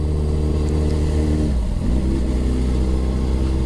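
A motorcycle engine drones loudly and steadily while being ridden at speed on a road, dipping briefly mid-way before revving back up.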